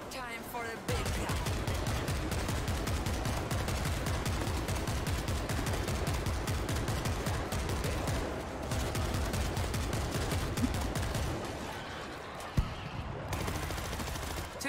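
Heavy gunfire in the zombie shooter World War Z, dense rapid bursts of automatic shots rattling almost continuously, with a brief pause near the end and voices faintly mixed in.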